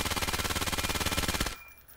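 The ACP-9 submachine gun in the VR game Vail VR fires a rapid, even burst of about twenty shots for a second and a half, then stops sharply into quiet tail noise.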